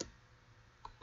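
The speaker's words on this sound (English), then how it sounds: "I'm typing the whole algebraic expression as I see it." Single key press on a calculator while an algebraic expression is entered, a faint soft click near the start and another near the end, quiet and close.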